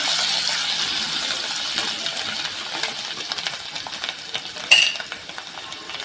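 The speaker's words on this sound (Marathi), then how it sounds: "एक चमचे गरम मसाला आणि थोडंसं हिंग थोडीशी कोथिंबीर थोडंसं परतून घेऊया" Garam masala, asafoetida and coriander sautéing in a pan for a wet jawla shrimp fry, a steady soft sizzle with light stirring scrapes and one brief metallic clink.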